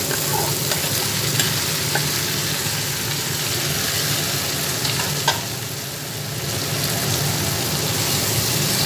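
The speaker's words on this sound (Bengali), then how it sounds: "সেই আলু আর পটলটা এর মধ্যে দিয়ে দিচ্ছি" Fried pointed gourd and potato pieces are stirred in a pan with turmeric, producing a loud, dense, continuous sizzle with scraping stir strokes throughout, close by and alone.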